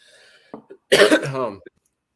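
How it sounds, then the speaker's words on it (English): A single person's cough near the microphone, one harsh throat-clearing burst with a short lead-in, then silence. "Sorry, I got a cough."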